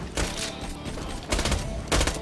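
Bursts of gunfire in the video game Borderlands 2, three loud rapid volleys separated by short pauses, close and dominant.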